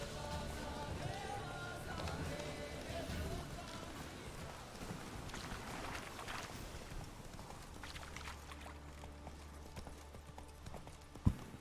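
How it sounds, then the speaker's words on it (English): A horse gallops in The Witcher video game, its hooves clip-clopping in a steady rhythm throughout over a soft game soundscape. "Run, Roach"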